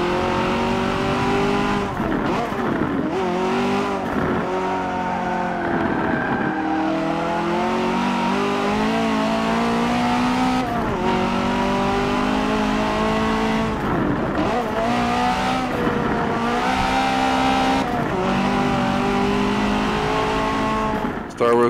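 Race cars in a two-lap Forza Motorsport 7 race, engines droning steadily and loud throughout with rising and falling revs as gears shift, continuous with no pauses.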